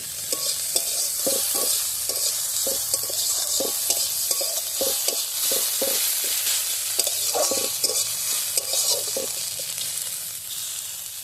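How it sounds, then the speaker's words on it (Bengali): Chopped onions fry in a small amount of oil for a homemade Bata fish curry, a steady close sizzle broken by regular scraping taps of a spatula stirring the pan. "পেঁয়াজটা একটু হালকা ভাজা ভাজা করে নেব।"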